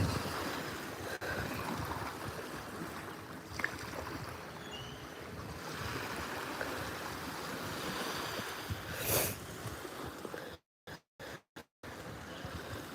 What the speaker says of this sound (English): The water goes over the sand.